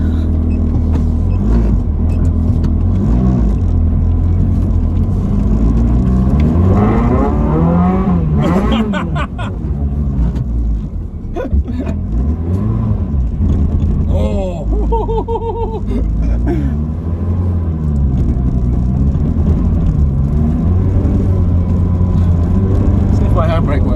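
Ferrari Stradale engine running loud and close, a steady deep drone with shifts in revs, and people talk over it throughout.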